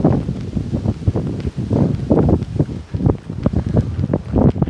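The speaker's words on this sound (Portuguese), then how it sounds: "Nossa, esse vento frio." A cold wind blows outdoors in a park in Central Europe, a loud continuous rumbling buffet against the microphone with gusty surges and no voices.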